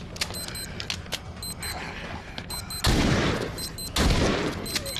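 Gunfire from The Walking Dead: Saints & Sinners, played in Trials mode on Advanced difficulty, comes as two loud, sharp bursts late on, set against quieter game ambience with scattered small clicks and knocks.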